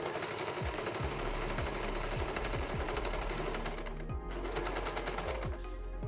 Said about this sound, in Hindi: सेम उसी तरीके से दूसरे साइड भी हम सिलाई रख लेंगे, एकदम जो हमने चौक लगाई हुई है उसके ऊपर।